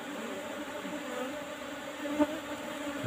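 Apis cerana honey bees buzz around a comb during harvesting, a soft continuous drone close by with a slight swell near the end.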